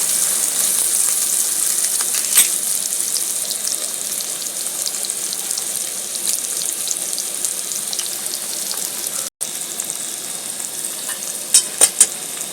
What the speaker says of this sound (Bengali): এইবারে দেবো এই পেঁয়াজের মধ্যে আলু